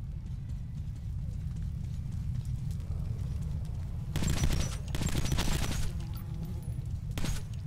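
Bursts of gunfire from a weapon in the first-person shooter Metro 2033 Redux, two sustained volleys with a short final burst over a steady low rumble of background noise.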